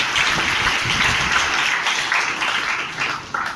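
Applause from a crowd at a student award ceremony in a village hall, a dense, steady clatter of many hands that thins slightly toward the end.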